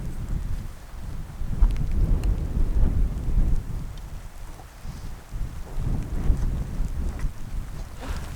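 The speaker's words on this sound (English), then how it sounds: "Rain's picking up a little bit" Rain falls steadily on a mountain trail in southern Colorado while low thunder rumbles and rolls repeatedly through the storm, with no voices heard.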